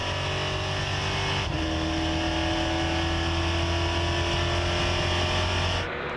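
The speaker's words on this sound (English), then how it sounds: "The Italian driver appreciates the official NASCAR series in Europe and drives for his own team this weekend, the Max Papis Racing. Let's ride on board with him" Onboard a NASCAR Whelen Euro Series race car at Monza in 2013, the engine roars loud and steady at high revs, with one quick gear shift early on and a brief drop at the very end.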